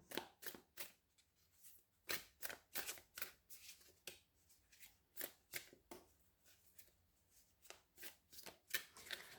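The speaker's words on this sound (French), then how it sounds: "il faut brasser les cartes, hop, les mélanger" Oracle cards from the Grand Oracle Français deck being shuffled by hand, a run of quick riffling bursts in steady rhythm, close and fairly quiet, with no talking.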